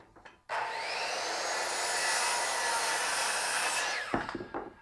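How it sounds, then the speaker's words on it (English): A saw cuts through a wooden bottom plate running wall to wall in a tiny house shower corner, a close, loud, steady whine lasting a few seconds before stopping abruptly. "So I'm just going to cut a bottom plate that goes from wall to wall."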